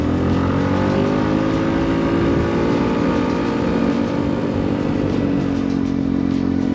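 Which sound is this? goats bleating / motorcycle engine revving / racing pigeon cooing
motorcycle engine revving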